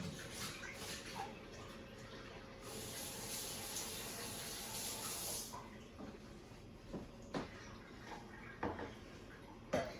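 Water runs steadily from a kitchen tap while a meat separator is washed; the flow is loud and continuous for about five seconds, then eases to a quieter trickle with scattered knocks and splashes.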